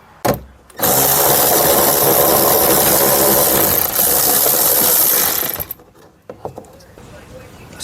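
A ratchet backs out a 10 millimeter bolt by the door handle while a side mirror is removed from a 2002–2008 Dodge Ram. It gives a loud, steady whirring run of about five seconds, then a few scattered clicks and knocks.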